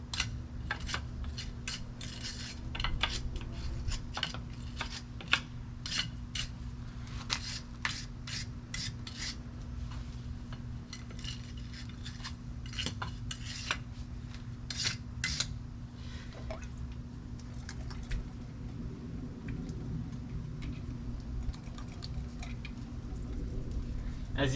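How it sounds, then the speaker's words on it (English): A rag or brush rasps and rubs over dirty truck wheel stud threads in repeated short scrubbing strokes, close and fairly clear over a steady low background hum. "gonna clean off the threads a little bit here. Of any possible dirt or contamination."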